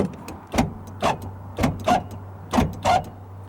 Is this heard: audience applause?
no